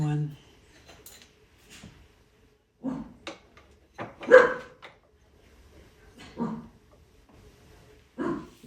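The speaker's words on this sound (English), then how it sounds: "You guys can hear my dogs now." Dogs bark in scattered short bursts in the background indoors during a cactus repotting session, moderately faint and intermittent, mixed with a person talking nearby.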